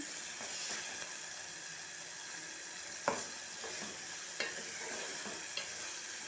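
Tomato and masala powder cooking in a pan for a potato-tomato curry: a soft, steady sizzle with a few sharp clinks and scrapes of a spoon stirring, quiet and close, with no talking.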